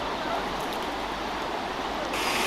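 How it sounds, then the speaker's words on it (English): River Irwell flowing through Moses Gate Country Park, a steady rushing wash of moving water heard alone at moderate level. "Now the River Irwell cuts right through the park"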